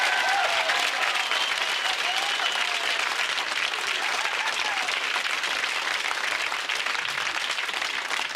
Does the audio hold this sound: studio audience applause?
yes